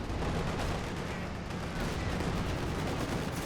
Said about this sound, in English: Tons of MGs over here.